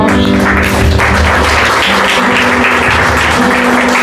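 Congregation applauding together during a church service, a dense sustained wash of clapping at steady loudness through the whole stretch, with a faint tonal hum running underneath.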